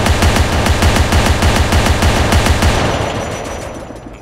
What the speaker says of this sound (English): You can hear the gun sounding right now.